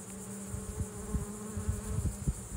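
Honeybees buzz around an opened hive, a steady droning hum with brief louder passes as individual bees fly close.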